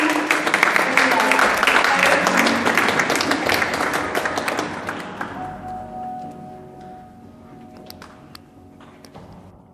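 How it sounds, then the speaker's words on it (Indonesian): An audience at a Hamburg community gathering applauds the Indonesian Consul General, dense clapping that fades over several seconds into scattered claps, light taps and room noise, with faint voices underneath. "Kita berikan tepuk tangan"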